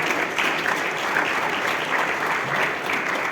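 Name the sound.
applause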